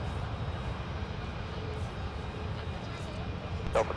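At Minneapolis–Saint Paul airport at night, an airliner's engines hum steadily in the distance while it taxis along taxiway Tango past the cargo ramps toward runway 17, beneath a voice and a short radio squawk.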